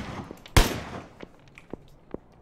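A single loud, sharp gunshot in a competitive shooting video game, followed by a few faint, scattered clicks and taps.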